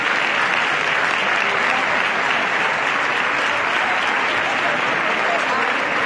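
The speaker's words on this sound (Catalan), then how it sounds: "un altre aplaudiment per al president" A dense, steady wall of applause from a large audience for the president at a Valencian Falles exaltation ceremony, loud and continuous throughout without pause.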